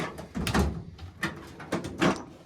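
A metal tool box drawer in a home garage slides and clunks, with several rough rolling scrapes and knocks in uneven bursts, close by.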